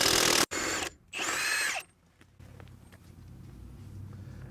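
Milwaukee impact wrench with a Pittsburgh Pro impact-rated deep socket hammering loose a nut: loud, close bursts of rapid rattling impacts in two runs, then a brief whir and quieter handling noise.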